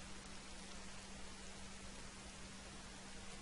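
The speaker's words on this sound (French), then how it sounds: "La pluie ne nous a pas épargnés" Rain pouring down as a constant, dense wash of drops, uniform and moderately loud throughout, with no one speaking.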